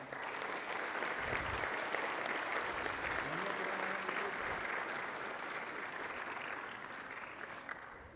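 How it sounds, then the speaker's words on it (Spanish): A large audience applauds at a university event at UAM-X, with dense, steady clapping that stays loud and sustained for about eight seconds before easing slightly toward the end. "les pido un aplauso para Juan."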